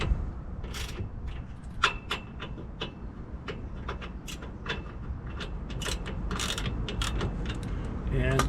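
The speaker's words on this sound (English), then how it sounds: "I'll come back and I'll come down easy on them with the torque wrench" A wrench works the U-bolt nuts on a Dexter trailer axle under a 2024 Cougar 260 MLE camper, giving a steady series of close, sharp ratcheting clicks over a low background rumble.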